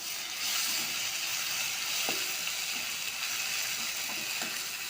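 Spices with ginger-garlic paste frying in hot oil for egg biryani gravy, a steady broadband sizzle throughout with a few soft clicks of a utensil against the pan, and no talking.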